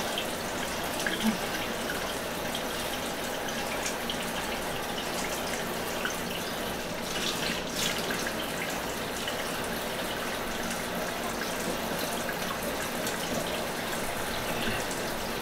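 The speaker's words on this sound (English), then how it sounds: "Now I'm about to rinse the conditioner out." Tap water runs in a steady, close rush while conditioner is rinsed out of hair, a continuous splashing wash with no voices.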